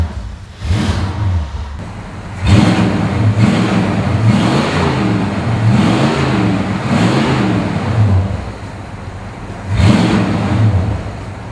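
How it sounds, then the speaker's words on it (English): A 1966 Ford Mustang GT convertible cranks and fires up, then revs repeatedly in rising and falling surges before settling, a loud V8 burble close to the microphone with no talking. "How about I start it for you, because these cars still sound great."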